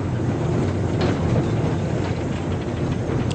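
A train heard from the main line while overtaking a Metro-Cammell Class 101 diesel multiple unit branch line train in early British Railways green livery. A steady, loud rumble of rail running goes on throughout, with no talking.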